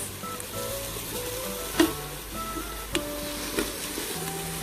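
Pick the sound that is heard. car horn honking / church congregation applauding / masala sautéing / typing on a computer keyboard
masala sautéing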